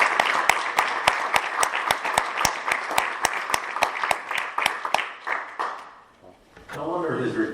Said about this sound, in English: So I'd like to give him a big round of applause for all of his service.